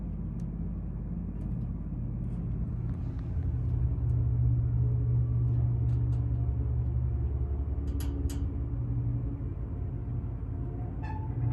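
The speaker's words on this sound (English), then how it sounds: "we're gonna close this elevator up and get a listen to the motor." A Dover traditional hydraulic elevator motor runs inside a closed cab at the Veterinary Science Building, TAMU, giving a steady, loud low rumble and hum that holds throughout, with a few faint clicks and squeaks on top.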